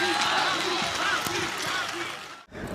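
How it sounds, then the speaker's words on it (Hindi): Audience applause at a live Urdu poetry mushaira honoring a poet, a steady dense patter of clapping with crowd murmur that drops out abruptly near the end. "हाफी के लिए पुरजोर तालियां बजाई जाएं।"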